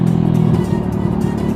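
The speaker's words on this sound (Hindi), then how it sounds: "भाई साहब ऐसा लग रहा है गाड़ी फ्लेम फेंक रही है, वैसी आवाज़ आ रही है बिल्कुल बुम बुम बुम" Motorcycle exhaust, loud and close, rumbling with a steady low burble that breaks into rapid popping pulses as the rider revs, running alone without voices.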